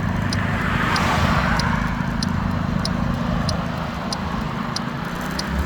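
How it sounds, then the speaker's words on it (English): Street traffic rushes past in a steady, loud roar of engines and tyres, with faint repeated ticking on top and no talk. "Just waiting for some traffic to clear up where I can take off."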